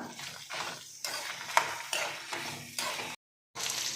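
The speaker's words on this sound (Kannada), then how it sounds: "ಈಗ ಇದೆಲ್ಲ ಸ್ವಲ್ಪ ಚೆನ್ನಾಗಿ ಫ್ರೈ ಮಾಡ್ಕೊಳ್ಳೋಣ" Tomato bath ingredients fry in a pan while a spoon stirs in regular scraping strokes, each push bringing a burst of sizzle, with one brief silent gap near the end.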